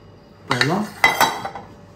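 A spoon or whisk scrapes and clinks against a bowl while stirring chocolate mousse, two short bursts of close utensil-on-bowl contact separated by brief quiet.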